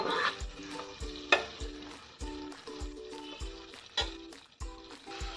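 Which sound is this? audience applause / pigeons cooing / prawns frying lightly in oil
prawns frying lightly in oil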